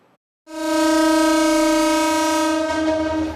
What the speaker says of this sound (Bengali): দুই সপ্তাহ পর আবারও বাজল ট্রেনের হুইসেল